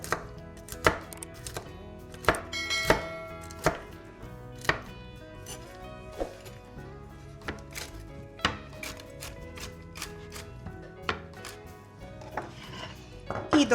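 A knife chops walnuts coarsely on a board, with a steady series of sharp, close knocks at an irregular rhythm and no talking.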